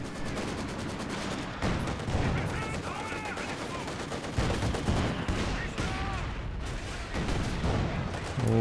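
Heavy mortar barrage in Company of Heroes 2, a dense run of booming impacts and crackling gunfire that layer continuously at loud volume, with explosions landing every second or so.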